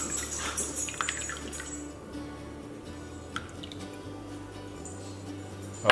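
Tofu packing water drips and trickles from an opened package into a cup held over a kitchen sink, giving soft irregular drips and splashes over a low steady hum.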